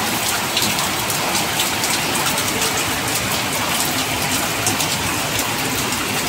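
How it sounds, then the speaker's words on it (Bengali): Heavy rain pours down steadily and loudly, a dense continuous hiss of drops beating on surfaces with no pauses, close and enveloping, after two or three hours of downpour. "কি পরিমাণে বৃষ্টি হচ্ছে।"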